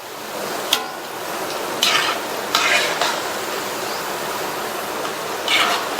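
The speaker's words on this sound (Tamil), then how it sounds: "எல்லா பக்கோடாவையும் இந்த மாதிரி திருப்பி திருப்பி போட்டுருங்க." Pakoda frying in hot oil with steady bubbling and occasional louder scrapes and clinks as the pieces are turned over, close and continuous with no talk.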